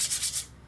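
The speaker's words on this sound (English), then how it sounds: "just clean up any rust off this" A rusty Ford truck clutch pedal part is scrubbed in a few quick, close abrasive strokes. The short, rhythmic rubbing lasts under a second and has no talk over it.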